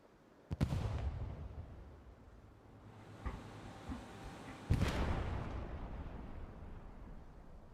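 Rockets flying in and exploding in a war video game, two big booming impacts, the second louder, each followed by a long rumbling decay, with smaller distant thuds between them.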